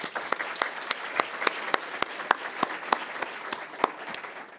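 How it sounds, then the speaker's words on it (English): An audience applauds at a university honor society induction ceremony, with a steady bed of clapping punctuated by a few sharp, distinct claps that stand out close by, continuous for several seconds with no talking. "So a big round of applause for them."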